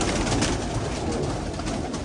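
Pigeons coo in a loft, soft low throaty calls heard close over a steady rushing background noise, without talk.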